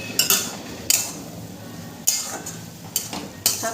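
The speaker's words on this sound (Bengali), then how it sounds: "শাকটাকে নেড়ে নেবো।" Khesari greens stirred in a cooking pot with a metal spoon, sharp clinks and scrapes against the pot coming in irregular bursts over a quiet background sizzle, close and fairly soft.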